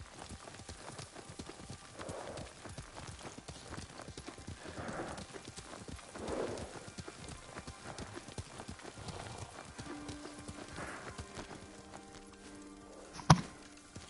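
Horse hooves clip-clop steadily at a walking pace while riding in Ghost of Tsushima, a soft continuous rhythm of hoofbeats, with brief speech and a short sharp sound near the end.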